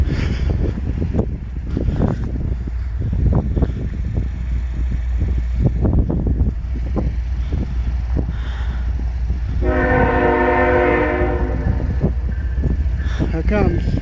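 CN M383 westbound freight train approaches with a steady heavy rumble and clanks, then sounds a long, loud multi-tone horn blast near the end. Voices talk over it.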